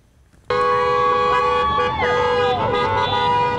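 Car horns honk in support of teachers along Broadway at Harrison in Tucson on the eve of a walkout, overlapping loud tones with wavering pitch sounding continuously after a sudden start, close and dense amid street traffic.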